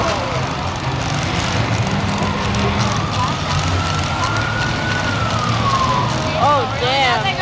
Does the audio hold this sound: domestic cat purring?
no